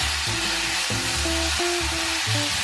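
Potatoes are stirred in a pan with salt, soy sauce and oyster sauce, making a continuous close sizzle with short rhythmic scraping strokes throughout and no voices.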